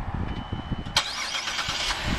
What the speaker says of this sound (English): you're going to hold this for 2 to 3 seconds as the vehicle starts.